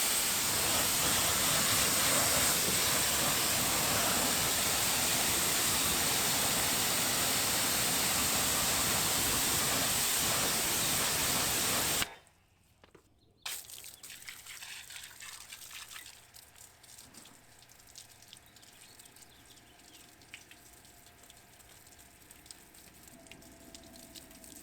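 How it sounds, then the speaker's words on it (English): Continuous hissing spray of a water rinse flushing chemical cleaner from car wheels, fenders and tires during a deep clean, loud and steady, then abruptly cut off and followed by quieter dripping and handling noises. "Then a thorough rinse was done to flush out any remaining active chemical"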